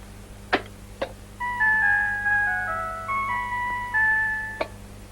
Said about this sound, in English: Crazy horn.